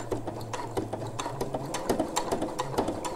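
A sewing machine topstitches a bra with a rhythmic mechanical ticking over a low running hum, close by and without speech.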